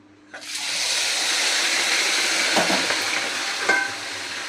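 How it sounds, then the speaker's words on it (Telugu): Chicken frying in hot oil for chicken pickle, a steady dense sizzle that starts abruptly as the pieces go in and holds loud throughout, with a few faint clinks. "ఇప్పుడు ఈ నూనెలో ఈ చికెన్ వేసి ఫ్రై చేసుకుందాం"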